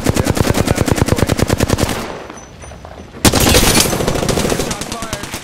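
Rapid automatic gunfire in the Apex Legends shooter, loud and close, with steady bursts for about two seconds, a short lull, then another dense volley continuing to the end.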